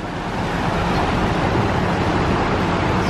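A river rushing past in Gatlinburg, a steady broadband wash of flowing water close by, continuous and fairly loud with no voices.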